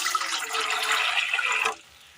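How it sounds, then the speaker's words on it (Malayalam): Water pours steadily into a pot on the stove for a Kerala breakfast recipe, a close, continuous rushing splash that stops abruptly near the end, with no talking. "ഒരു പാത്രം അടുപ്പത്ത് വെച്ച് കൊടുത്ത് ഒരല്പം വെള്ളം ഒഴിച്ചു കൊടുക്കാം"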